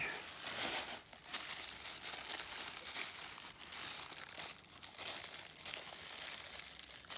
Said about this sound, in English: Unwrapping the tissue paper for the build from Marc Tyler.